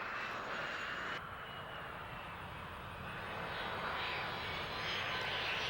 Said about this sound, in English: Coming in close to final, the airplane floats very nicely, can be flared, and touches down very softly.